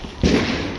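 A single loud firecracker burst during Diwali celebrations, a sudden sharp onset followed by a sustained crackling, rumbling tail nearby.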